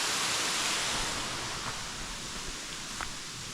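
Waterfall in a karst canyon near Kozina, heard as a steady broad rushing roar of falling water, moderately distant and even, with a couple of faint brief ticks over it.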